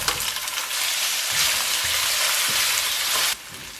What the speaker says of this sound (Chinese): 翻炒至鸡肉块微微变色